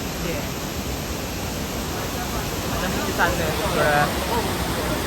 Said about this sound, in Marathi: तो जो मोठा धबधबा आहे तो